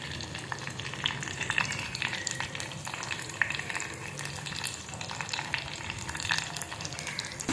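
Cumin seeds crackle and sizzle steadily in hot oil for a kadhi tempering, with tiny popping sputters scattered throughout and no voices.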